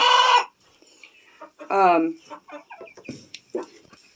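Hens cluck and squawk in short bursts close by at their laying boxes in the evening, with a louder rising call in the middle, mixed with scattered farmyard noises.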